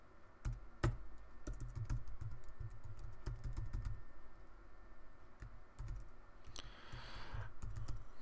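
Quiet, rapid clicking of computer keyboard keys sounds close up as dashes are typed, coming in short bursts with brief pauses between them.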